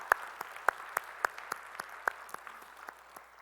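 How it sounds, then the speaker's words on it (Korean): A church congregation applauds during a Sunday worship service, irregular claps forming a broad wash with sharper individual claps standing out, steady for a few seconds at moderate distance. "우리 찬양을 받으실 주님께 영광의 박수 올리겠습니다"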